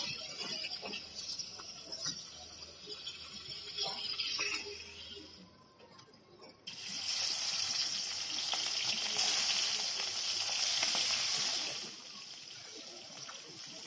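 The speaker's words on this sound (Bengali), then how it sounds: "কড়াইয়ে তেল দিলাম তেলটা তেলটাও গরম হয়ে গেছে মাছগুলো আস্তে আস্তে করে ভেজে নেবে" Fish frying in oil in a pan: a continuous crackling sizzle that grows louder partway through, with occasional stirring clinks, close and steady.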